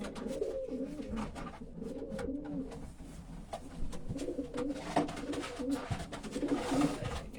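Homing pigeons cooing continuously, several birds layered together with soft rolling calls close by, plus occasional shuffling and small knocks.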